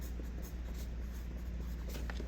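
A colored pencil writes letters in a spelling book, giving a soft, continuous scratching with small strokes over a steady background hiss, close and quiet, with no talking.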